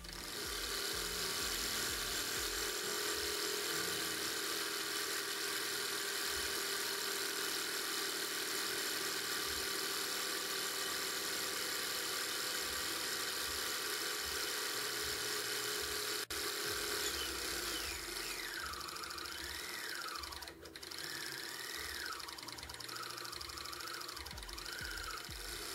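Homemade Stirling engine with 18 mm piston strokes spinning freely on a test, a faint steady mechanical hum with light knocking, and a whining tone that wavers up and down near the end.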